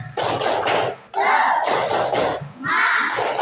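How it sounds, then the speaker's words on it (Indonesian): Children in a classroom perform a rhythmic encouragement clap, three bursts of patterned claps and chanting voices separated by brief pauses, loud and close. "kita kasih tepuk semangat."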